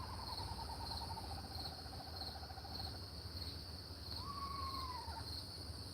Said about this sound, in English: It's a weird bird call, though. It's very strange.